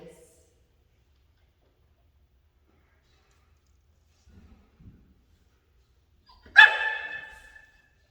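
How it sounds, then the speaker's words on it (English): A dog gives a single sharp bark for attention, loud and close, ringing out of an otherwise quiet room with a few faint shuffles before it. "as Willow barks at me because she wants attention"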